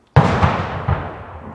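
A firework goes off close by in a garage setting, one sharp loud bang with a long decaying tail, then a second smaller burst follows under a second later.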